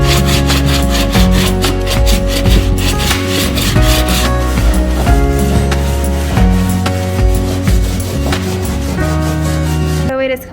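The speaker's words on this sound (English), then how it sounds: "I'm literally just going to use a block sander and just sand this down" Block sander rubbing over joint compound on a faux stucco fireplace surround, loud close rhythmic scraping strokes repeating steadily with no talk.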